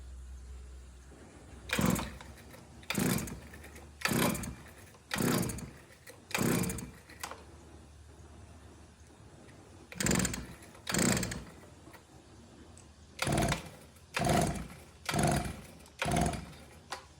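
A Husqvarna 150BT backpack blower engine being pull-started: about a dozen loud, close rope pulls come in two bursts, each a rasping crank that never catches into running.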